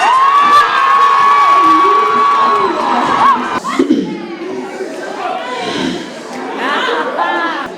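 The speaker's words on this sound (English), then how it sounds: "a round of applause for the Honorable President of Kutanda Center" Crowd cheering and shouting, with children's voices, greets the president of a community centre at an Afrika Tikkun alumni day in 2019; loud, continuous whoops and chatter fill the whole stretch, with a whistle-like tone early on.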